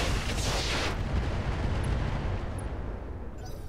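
Heavy mech weapons fire in the BattleTech game Roguetech, a loud sustained barrage of booming, rumbling blasts that slowly fades.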